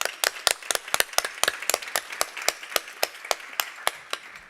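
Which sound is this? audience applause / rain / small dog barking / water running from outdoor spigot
audience applause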